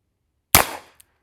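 A Smith & Wesson Model 14 revolver fires a single .38 Special round one-handed at a silhouette target seven yards away: one sharp, loud, close crack with a short decay, then a faint click.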